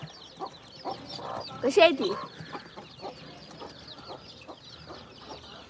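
A hen on a goat farm clucks in short repeated calls with one louder squawking burst in the middle, close by, while a person speaks briefly in the background.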